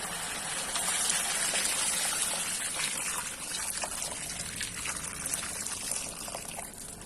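Hot water pours steadily into a pot of chicken maqlooba, a continuous close gushing and trickling stream lasting several seconds with no talk.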